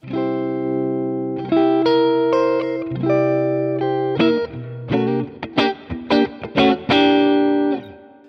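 An electric guitar plays through a clean Deluxe Reverb vibrato channel model on an Axe-Fx III: sustained chords, then a run of short plucked notes and a final ringing chord, loud and close.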